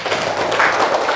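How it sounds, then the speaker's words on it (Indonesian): Applause in a classroom, students clapping for a group after its presentation, a steady dense patter of many hands at moderate loudness for a brief moment. "Tepuk tangan dulu"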